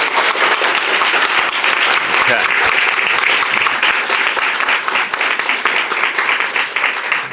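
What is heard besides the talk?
applause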